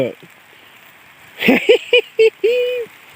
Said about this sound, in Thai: ฝนตกไม่หยุดเลยทุกคน